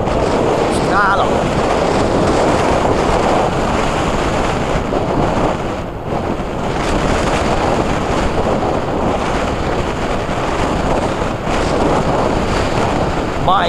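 Strong wind sweeps across the top of the Rungenberghalde spoil-heap hill, roaring in a dense, continuous rush that buffets the microphone throughout, with only faint hints of voices at the edges.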